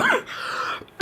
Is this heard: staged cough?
yes